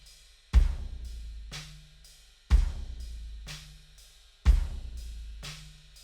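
Kick drum processed through a Waves Neve plugin equalizer, three round, booming hits spaced about two seconds apart, each with a low sustained tail and a soft higher ring, played alone without talk.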